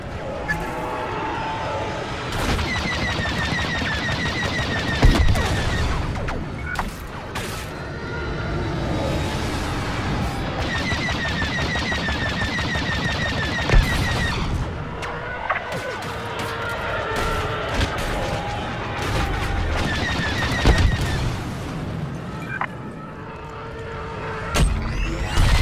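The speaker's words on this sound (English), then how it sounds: "players will have to engage in dogfights with X-Wings and Y-Wing bombers in order to protect the Corvus while it undergoes repairs" A Star Wars space dogfight in a video game, with X-Wings and Y-Wing bombers amid repeated blaster shots, whining laser chirps and sharp impacts, and voices underneath.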